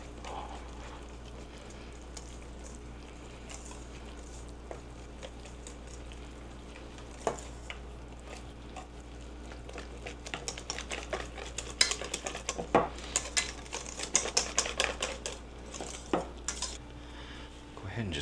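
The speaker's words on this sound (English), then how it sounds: "Break those yolks and get it stirred up." Egg yolks and vanilla being stirred in a bowl with a utensil, a steady run of quick clinks and scrapes that grow busier and louder toward the end, close by with no talking.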